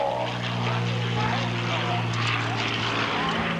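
Twin-engine Shrike Commander propeller plane performing at a 1988 San Diego airshow, its steady propeller drone holding loud and continuous throughout, with a commentator talking over it.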